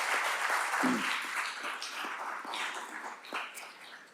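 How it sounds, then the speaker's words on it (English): A crowd claps steadily at a moderate distance, a dense patter of hands that slowly thins toward the end. "But I do really want to give a big round of applause to Sahana for really leading the organizing"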